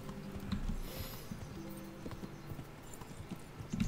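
A horse's hooves clip-clop at a steady walking rhythm while the horse is ridden through a middle European forest in the game Kingdom Come: Deliverance, with a brief neigh near the start.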